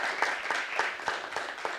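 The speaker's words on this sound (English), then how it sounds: "Another round of applause for our panel." An audience at a health equity and environmental justice panel event gives a brief round of applause, a dense, even patter of many hands clapping in a room.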